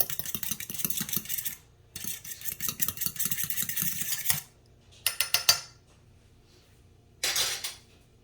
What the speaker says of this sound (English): So it's just a little whisk.